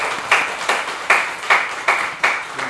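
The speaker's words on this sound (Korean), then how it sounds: "우리 축하 박수 그리고 오늘 말씀을 기대하면서 격려해 박수" Steady, rhythmic hand clapping at a Sunday church service, about seven even claps in unison at a brisk pace, fairly close and with no talking.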